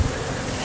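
Bees buzzing inside a pop-up camper holding a large hive, a dense, steady drone filling a brief moment at close range.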